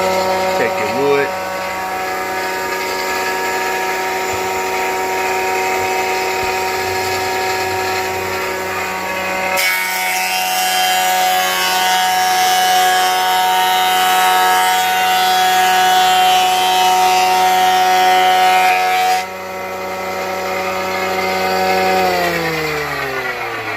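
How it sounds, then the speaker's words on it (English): A Rong Fu RF-PT150 jointer planer runs with a steady whine and then bites into a board, the tone roughening into a louder cutting roar for about ten seconds before easing back to idle and spinning down near the end. "So I just cut off 1/8 inch of wood off the planer"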